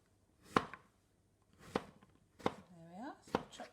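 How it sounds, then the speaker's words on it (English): Four crisp knife chops through courgette on a cutting board, close and irregularly spaced, with a brief murmur of voice between them. "There we are, so chop those up."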